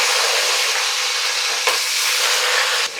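Sliced onion fries in ghee and oil for watermelon biryani, a loud, dense, continuous hissing sizzle with a couple of brief stirring knocks; no talking.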